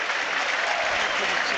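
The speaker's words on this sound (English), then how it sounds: "Well, the applause is for Manuel Benson." Crowd at a football stadium applauding during a Burnley v AFC Bournemouth match, a dense, steady clatter of clapping filling the whole short stretch.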